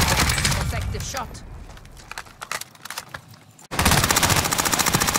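Machine gun fire in a shooter video game, with rattling bursts early, a quieter stretch of scattered shots and footsteps, then a loud, steady automatic burst at the end, with a voice underneath.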